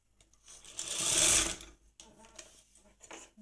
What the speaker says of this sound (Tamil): ஜாக்கெட்டு தைச்சி காட்ட போகிறேன் காட்டிகிட்டு இருக்கிறேன் பாருங்கள் இது தையல் அடிச்சுக்கோங்க